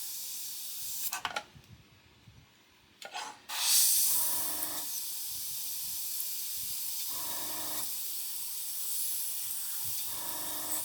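A paint spray gun loaded with paint that is too thick hisses in bursts close up, sputtering and spitting unevenly between short pauses, with no voices.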